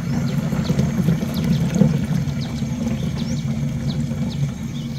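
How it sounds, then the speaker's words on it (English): Water pours steadily into a garden sprayer holding an oil pesticide mix, a continuous low rushing stream with faint splashing and no voices. "And then top it up with water."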